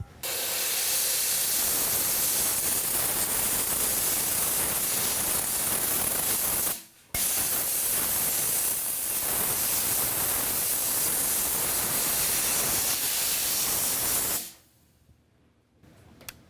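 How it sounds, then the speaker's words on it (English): Jewelry steam cleaner blasting soldered rings in a steady, loud, broadband hiss lasting about seven seconds, a brief cut, then another long burst before stopping. "let's now go to the steamer for the final cleaning"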